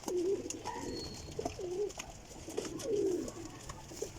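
Desi pigeons coo in a few low, rolling phrases, close by, with no talk over them and a steady outdoor hiss behind.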